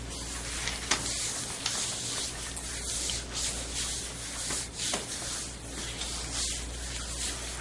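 Massage oil rubbed onto a hockey player's skin during an athletic massage, giving soft, continuous slick rubbing and sliding strokes with a few light taps, heard close and alone.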